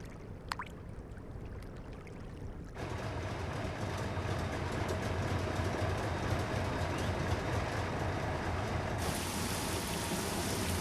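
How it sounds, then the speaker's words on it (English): A loaded freight train rolls steadily along the tracks at a salt works, with a constant rumbling clatter that grows louder partway through and holds, no voices. "While the loaded train rolls back into the camps"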